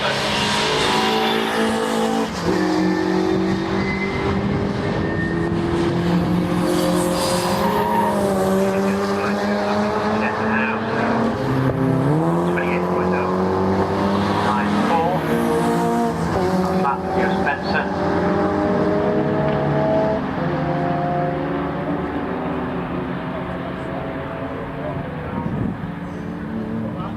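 Saloon race cars climb the hill at Oulton Park during a Sports/Saloon Championship race, their engines rising and falling in pitch as they pass, loud and continuous beneath commentary.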